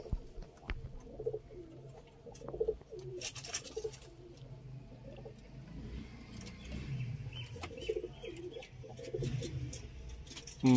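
Saleti kamagar pigeons in Sialkot give soft, low, repeated cooing phrases at a moderate distance, with faint rustling and occasional wing flutters in a quiet, slightly noisy setting.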